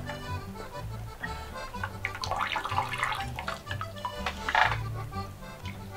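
Water rinsing through the barrel of a black powder pistol during cleaning, running and splashing steadily for several seconds, with a louder gush near the end.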